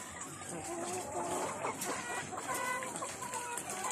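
Mature egg-laying hens cluck and chatter nearby in a steady, overlapping stream of short calls at moderate volume.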